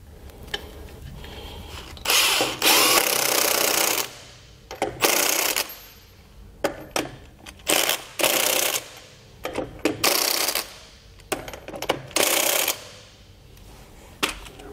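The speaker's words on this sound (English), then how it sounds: "With our lug nuts tightened down" Lug nuts being tightened onto a trailer wheel with cone-faced nuts during a Dexter axle beam install, heard as repeated loud bursts of a power impact tool, each lasting about a second, separated by short pauses and small metallic clinks.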